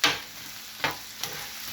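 A metal spatula chops and scrapes meat sizzling on a flat-top griddle for a chopped cheese and meatball sandwich, with a steady frying hiss and three sharp scraping strikes spaced under a second apart, no talking.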